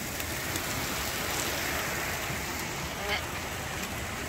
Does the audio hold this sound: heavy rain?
yes